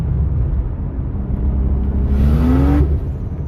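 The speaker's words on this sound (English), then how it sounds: "That's the clutch slipping where it just over revved like that" A 2JZ engine drones loudly inside a car, then its revs shoot up in a rising whine as the clutch slips, up close with no talk.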